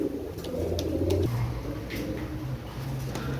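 A master pair of imported Pakistani Teddy 128 bloodline pigeons coos in low, rolling phrases that carry on steadily throughout, close by and moderately loud.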